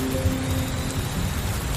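Torrential rain pours steadily in a storm, a dense, loud, continuous wash of drops with a low rumbling undertone throughout.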